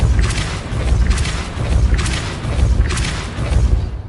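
Depulso spell effects in Hogwarts Legacy: four deep, heavy booms repeating at a steady pace roughly a second apart, each with a crackling burst on top, loud and alone.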